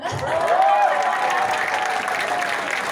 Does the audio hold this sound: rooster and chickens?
no